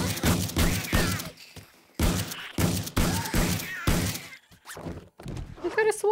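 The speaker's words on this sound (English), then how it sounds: "Come on, buddy, I'm gonna shoot you with my shotgun." A shotgun fires repeatedly in the multiplayer zombie game Darkness Falls, a series of sharp, loud booms coming in quick bursts with short gaps between them.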